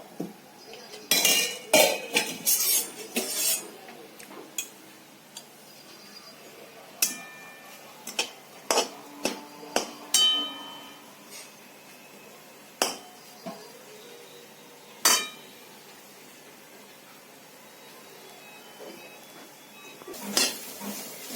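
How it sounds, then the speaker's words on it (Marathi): Grated coconut is dry-roasted and stirred in a pan over a low gas flame while making coconut barfi. Scattered metallic clinks and taps of a spoon against the pan come in bursts, separated by quiet stretches. "चांगला खमंग असा वास येऊस्तवर कमी गॅसवर भाजून घ्यायचे."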